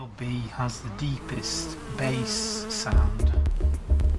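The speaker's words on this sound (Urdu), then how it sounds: "وہ شہد کی مکھیوں کی بھن بھناہٹ کی مختلف فریکوینسی کو علیحدہ علیحدہ ریکارڈ کرتا ہے" Honeybees buzz close by in shifting, layered tones, rising and falling with several droning pitches overlapping in uneven pulses.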